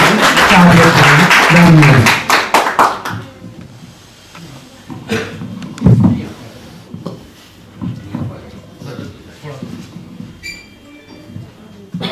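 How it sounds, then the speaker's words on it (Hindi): Audience clapping at a poetry gathering, a loud burst of applause for the first few seconds that quickly fades into quieter room noise with faint scattered sounds. "दोस्तों तालियां बजा दीजिए थोड़ी"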